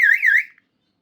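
Electronic fire alarm sounder on a conventional FDAS panel after a manual call point is pulled, a short loud warbling siren tone lasting about half a second before cutting off into silence.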